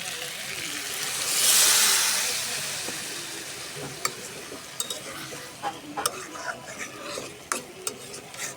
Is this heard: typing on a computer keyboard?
no